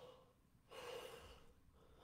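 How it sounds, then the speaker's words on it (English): A person yawns aloud, a drawn-out breathy exhale of about a second, close and fairly quiet, with softer breathing before and after. "Go ahead and yawn with me."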